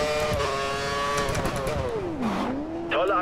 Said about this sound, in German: Wir geben jetzt erstmal ein bisschen Gas.